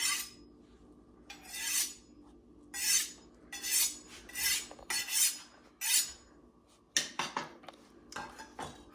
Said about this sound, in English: I put the heel of my knife on the edge of the stone, on the edge of the steel, or the end of the steel.